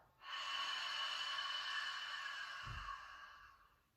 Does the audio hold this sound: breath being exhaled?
yes